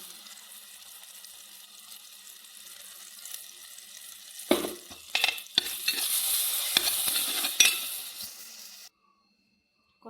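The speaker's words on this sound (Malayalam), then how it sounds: "അരപ്പൊഴിക്കാം" Ground masala paste hits a hot pan for a Kerala fish curry, setting off a loud, steady sizzle broken by a few sharp bursts and scraping stirs, then cutting to silence near the end.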